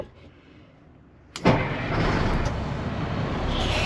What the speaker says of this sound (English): So let's turn on the truck.